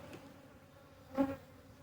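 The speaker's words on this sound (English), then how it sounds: "And there are bees covered in pollen and everything." Honeybees at beehives in January, a faint low buzz with one brief louder pass as a bee flies close, otherwise quiet.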